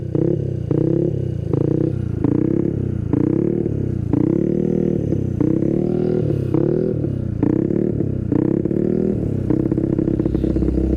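A Yamaha Mio J 113cc scooter on a test ride, its engine droning loud and close with repeated throttle surges and revs rising and falling in a steady rhythm, no talking.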